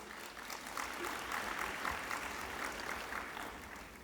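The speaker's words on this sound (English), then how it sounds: "a big round of applause" An audience at a university graduation ceremony applauds, a broad and fairly quiet patter of many hands clapping steadily throughout, heard at some distance.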